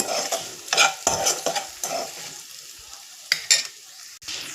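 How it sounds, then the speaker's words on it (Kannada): Spices frying in oil in a pan for potato rice, with repeated close spatula scrapes and clinks over a light sizzle. "ನೀಟಾಗಿ ಫ್ರೈ ಆಗ್ತಾ ಇದೆ"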